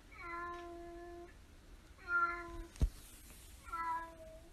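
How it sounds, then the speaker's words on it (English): Three drawn-out cat meows played by a Google smart speaker, fairly faint and evenly spaced, with a sharp click between the second and third. "Hey Google, make a cat sound."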